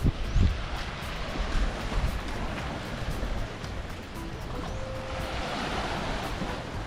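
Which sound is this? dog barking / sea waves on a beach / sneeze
sea waves on a beach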